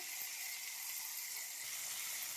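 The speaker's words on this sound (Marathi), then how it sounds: "दोन्ही बाजूनी मस्त तळला गेलाय हा मासा." Tamboshi fish fries on a wood-fired clay stove, giving a steady, soft, bright sizzle with no breaks and no voices.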